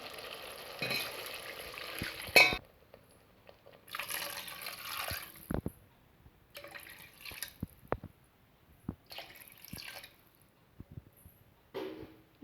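Water is poured into simmering sundakkai vathal kuzhambu with salt and turmeric, giving bursts of sizzling and splashing, a sharp clink, then intermittent stirring scrapes and drips between quieter pauses.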